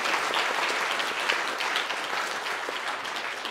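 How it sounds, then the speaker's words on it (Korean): A church congregation claps for the choir during a Sunday Christmas service, a full, steady round of applause from many hands that stays fairly even before easing slightly at the end. "우리 모든 성가대 회원들을 위해서 격려의 박수 한번 부탁드리겠습니다"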